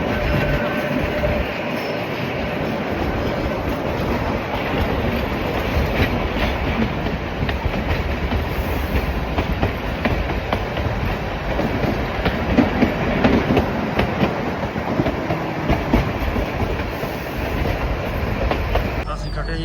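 A narrow-gauge toy train near Kandaghat rumbles along steadily with rattling wheels and occasional clacks, loud and continuous, with faint voices mixed in.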